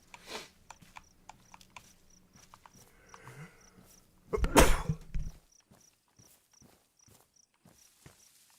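A DayZ survival game character lets out one loud, sharp sneeze midway through, surrounded by quiet, regular in-game footsteps before and after.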